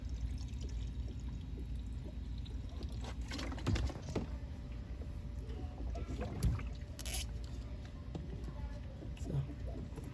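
Coolant streams out of the thermostat housing on a Dodge 3.6 V6, a steady wet pour that runs on without a break and carries small splashes, with faint background noise but no speech.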